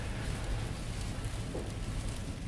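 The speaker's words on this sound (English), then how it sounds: "You're seeing definitely this deluge of rain." Heavy rain pours steadily during a tornado storm around Charlotte, a dense, even roar of downpour with a constant low rumble throughout and no voices.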